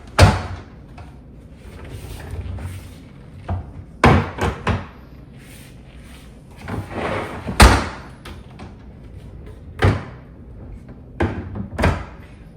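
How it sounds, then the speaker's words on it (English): Doors of a Moore's Sewing SewFine Hideaway XL sewing machine cabinet are shut repeatedly, giving a series of sharp close thumps and slams, some in quick pairs, with quiet gaps between. "We'll go ahead and close the door."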